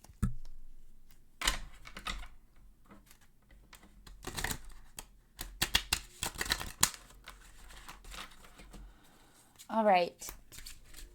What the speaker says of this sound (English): I'm going to go ahead and give these cards a shuffle